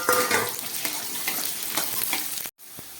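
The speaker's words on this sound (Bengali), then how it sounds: "তেলটা গরম হয়ে গেছে আমি কয়েক টুকরো আলু এখানে ভেজে নিচ্ছি" Potato pieces fry in hot oil in a kadai, giving a steady close crackling sizzle that runs for most of the clip before it cuts off abruptly near the end and then returns faintly.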